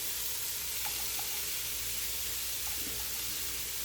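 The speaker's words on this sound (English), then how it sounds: "I'm just going to saute this in, get these tender enough." Mini peppers in several colours and diced onions sauteing in a pan for a prepared breakfast meal, a soft steady sizzle with a few faint pops, quiet and close, no talking.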